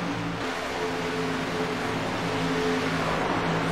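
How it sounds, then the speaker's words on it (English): Several truck engines in a racing game drone together in a steady, dense roar at Michigan, blending into one continuous rumble with no voices. "I apologize for all of the engines being heard at the same time."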